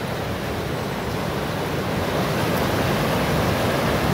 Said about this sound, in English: With some good rapids over there.